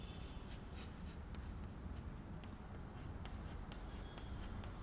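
A pen writes on paper up close while debtor figures are recorded for a partnership accounts lesson, a steady scratchy scribbling with faint strokes that continues evenly throughout with no talking.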